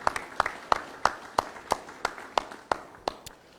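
Wedding guests thank the pandit with applause, heard as a sparse run of about a dozen sharp, evenly spaced claps, close and distinct rather than a full crowd wash.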